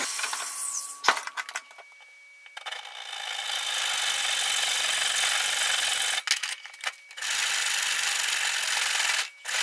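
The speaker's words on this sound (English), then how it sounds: "Let's just nick those edges off on the grinder." A bench grinder takes the edges off small metal studs, a steady loud grinding whir that cuts in and out with brief pauses and clunks between passes.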